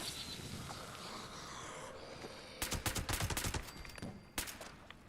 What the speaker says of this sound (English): Yeah, this gun's working better.